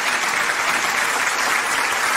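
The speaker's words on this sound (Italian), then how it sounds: "Facciamo un applauso." A studio audience claps steadily during an Italian radio and TV broadcast, a full, even burst of applause with no talking over it.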